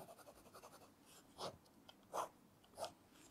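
A pen from an EDC kit writes on paper in quiet, soft scratches, broken by three louder, brisk strokes spaced about a second apart, heard up close with no talking.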